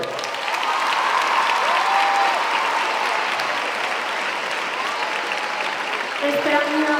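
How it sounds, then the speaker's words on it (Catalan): Large audience applauding and cheering in an ovation at a Valencia Fallas gala in an arena, a dense sustained roar of clapping that holds steady throughout, with some speech faintly mixed in toward the end. "vull un fortíssim aplaudiment, una ovació immensa per a la persona que va acompanyar-me aquesta nit, per a Paloma Gutiérrez."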